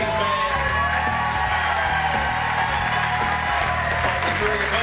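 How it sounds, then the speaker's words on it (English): A crowd claps, cheers and whoops for two fighters after a three-round Muay Boran bout at a British fight night, loud and sustained, with music thumping underneath. "Ladies and gentlemen, firstly, a massive round of applause for both of these men."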